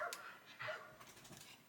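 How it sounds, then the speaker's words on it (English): A dog panting and whimpering close by: a few short, faint yips and breathy whines in quick succession, soft and alone. "if you could hear her, she's ready to bark, she's panting"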